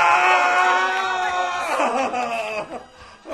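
A man in a Hindi radio drama screams loudly after being hit by an injection, giving a long, strained, wavering cry that breaks up toward the end.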